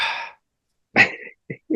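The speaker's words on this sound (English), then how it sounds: "Sneeze coming." A single sharp sneeze bursts out after a pause, followed by a couple of short breathy gasps, close and loud, with a bit of talk just before it.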